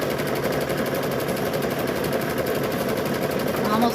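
A sewing machine stitching binding onto a quilt, running steadily with a fast even mechanical chatter throughout, close by and unbroken.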